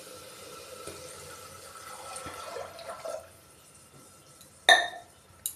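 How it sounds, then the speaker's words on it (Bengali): Water pours into a pressure cooker holding yellow peas for a ghugni curry, a soft steady splashing wash that fades, followed by a single sharp metallic clink and a brief final knock. "দেখো সবাই, আমি এতে জল অ্যাড করে দেব।"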